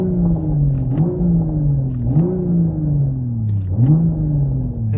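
Toyota Supra GR engine in sport mode, a near, steady growl that rises in pitch three times in a row, each climb ending in a short drop before building again.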